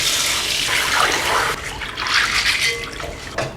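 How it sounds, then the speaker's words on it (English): Soybeans being washed for homemade tofu, with water sloshing and splashing in a bowl, a brief surge then softer swirling and rinsing, close and unaccompanied by speech. "Now I'm going to wash the beans 3 times."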